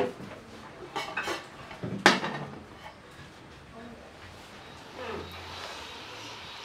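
A metal lid clanks onto a pot of boiling stew, with a few sharp clatters and scrapes of cookware close by, the loudest clank near the middle, then quieter bubbling and faint kitchen sounds.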